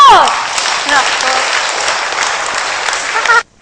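Congregation at a church service breaking into loud, sustained applause, dense clapping near and full that runs steadily before cutting off abruptly at the end.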